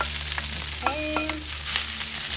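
Kung pao chicken being stirred and mixed on an outdoor griddle, a steady frying sizzle with brief scraping stir strokes and a few clicks, close and moderately loud, no talking.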